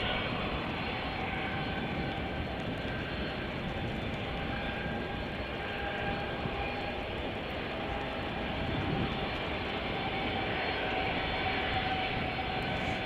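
Distant jet engine rumble from aircraft at Chicago O'Hare, where a United Boeing 757 sits among other airliners; a steady, broad drone holds throughout with no voices.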